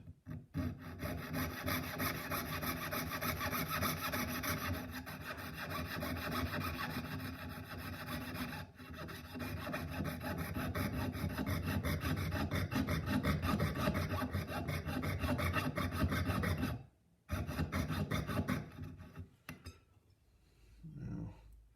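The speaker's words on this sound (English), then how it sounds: "So now I'm cutting this out right in the gold" A small saw rasps steadily through gold while cutting out a tiny robin carving, a dense continuous scraping close up that runs nearly twenty seconds before briefly pausing and trailing off, with no talking.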